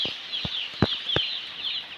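In a poultry farm shed, newly arrived chickens cluck in short, irregular bursts, several soft calls and clicks spaced over a steady high twittering hum.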